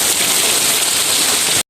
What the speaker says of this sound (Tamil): அடிச்சு ஊற்றுது மழை.